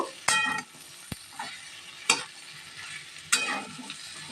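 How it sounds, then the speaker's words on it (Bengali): Diced capsicum and onion being stirred in a frying pan, with a few distinct scraping strokes of the spoon over a soft, steady sizzle, close by and without talk. "দিয়ে ভালোভাবে আবারও মিশিয়ে দেব।"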